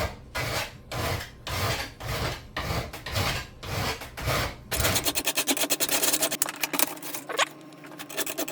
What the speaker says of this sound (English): you just put them in your vise and go to filing